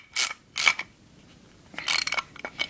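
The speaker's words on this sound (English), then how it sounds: "Okay, I'm tightening it up." A nut is tightened on a 3.5 hp lawn mower go-kart engine, giving short bursts of metallic ratcheting clicks separated by pauses, close up and fairly crisp.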